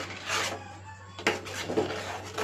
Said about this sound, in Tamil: நல்லா அதை கிண்டி விட்டேங்க. கிண்டி விட்டுக்கிட்டே தான் இருக்கேன்.